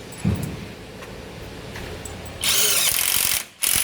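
An Aiman cordless impact wrench spins up in loud bursts, one long burst of about a second, a brief pause, then another short burst, all after a stretch of quiet handling noise.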